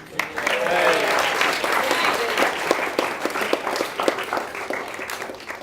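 Wedding guests applaud during the speeches, a dense, sustained round of clapping from a crowd in a room, with some voices mixed in as the applause gradually thins out.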